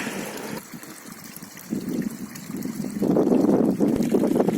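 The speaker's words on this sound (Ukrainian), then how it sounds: "Вода витікає. З купельки, з джерела." Spring water trickles steadily out of a small spring-fed bathing font in Bilohiria, Khmelnytskyi region, Ukraine, a close continuous splashing flow that swells louder partway through.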